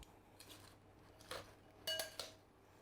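Utensil stirring coleslaw dressing in a bowl, quiet clinks and scrapes against the dish with a few sharper taps near the end, close and fairly soft with no talking.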